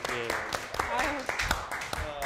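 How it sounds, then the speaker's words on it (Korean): A small audience at a political talk event claps together in distinct, closely spaced claps, nearby and moderately loud, while a person keeps talking over them. "자, 박수 한번 치고 가죠"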